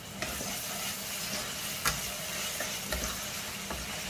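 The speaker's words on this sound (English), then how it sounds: "so I'm going to put them in as well now with the onions. Give that a stir." Crushed garlic and onions stirred in a hot pan for a lamb moussaka, giving a steady close sizzle with a few soft scraping knocks from the spoon, no talk.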